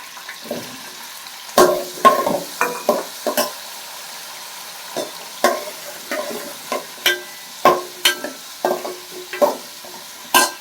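Tomatoes go into a frying Sankara fish curry base and are stirred, heard as repeated sharp clinks and scrapes of a utensil against the pot over a faint background sizzle.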